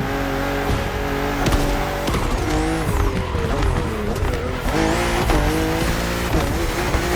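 BMW M2 and M4 cars racing along a narrow, twisting road in The Crew Motorfest, with a loud, close engine roar rising and falling through gear shifts and occasional tire squeal, steady and without talk.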